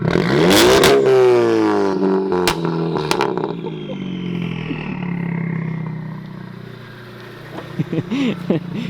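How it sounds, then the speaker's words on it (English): A loud engine of a 500bhp widebody Ford Focus ST revs hard with sharp rising pitch sweeps, then drops back to a lower rumble, with a few more quick blips near the end. "I wasn't expecting some revs"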